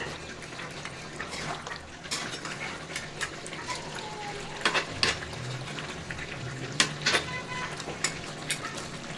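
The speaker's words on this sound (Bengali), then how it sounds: "এবার মাংসটা খুব ভালোভাবে নেড়ে দিতে হবে।" Beef with spices stirred in a pot makes soft, wet scraping and sizzling under a steady bubbling bed, punctuated by sharper clinks of the spoon against the pot.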